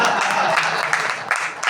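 Audience applause at a Prerna Utsav 2023 annual celebration with a book launch, a steady wash of clapping from a crowd that swells and continues for nearly two seconds, with voices mixed in.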